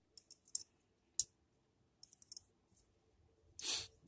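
Hard plastic parts of an Iron Factory Shadow Tengu toy snapping as they tab together: scattered sharp clicks in small clusters, with one louder, longer rattling snap near the end, close and with no talk.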